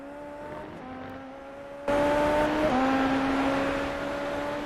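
A Super Formula open-wheel race car's engine drones steadily at high revs on an iRacing onboard lap of Watkins Glen, pitch sliding down through a gear change then climbing again, loud and continuous with no talk.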